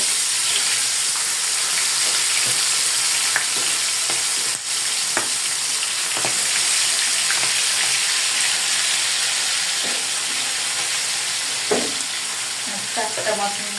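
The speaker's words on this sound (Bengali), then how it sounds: "এখন আমি মাছগুলোকে আগে ফার্স্টে ফ্রাই করে নিব" Pieces of hilsa fish frying in a pan, a steady bright sizzle continuing throughout with occasional small pops and clinks, and no talking.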